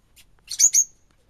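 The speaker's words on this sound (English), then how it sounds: "He's a little lovebird" A pet lovebird gives two sharp, high chirps in quick succession, close and fairly loud, with near silence around them outdoors.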